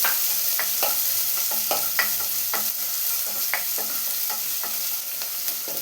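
Chopped onion and curry leaves sauté in oil for a vegetable kurma, a soft steady sizzle broken by repeated scraping strokes of a spoon against the pan.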